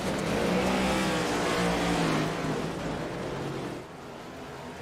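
Race cars on the dirt oval at Bristol Motor Speedway in iRacing roar past the start-finish line, a loud sustained engine drone that swells and then fades as the pack moves away.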